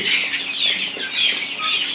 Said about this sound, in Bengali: খাবার দেবার সাথে সাথে আমাদের মুরগিগুলা খাবার খাওয়ার খাবার শুরু করে শুরু করে দিয়েছে